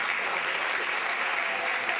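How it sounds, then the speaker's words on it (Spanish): Dense, steady applause from an audience at a school graduation ceremony, filling the whole stretch evenly and loudly with no other sound standing out. "Un fuerte aplauso para él."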